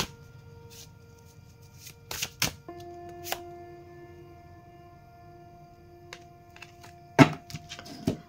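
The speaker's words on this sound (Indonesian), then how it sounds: "Satu oracle buat kamu, satu kartu oracle Sagittarius." Sagittarius oracle cards being shuffled and handled, a few soft papery riffles and taps scattered over quiet background with faint tonal hum.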